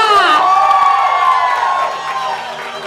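Audience at a drag queen pageant in Mogi das Cruzes cheers and whoops loudly for contestant Sasha, a dense crowd roar with high shouts that eases slightly toward the end.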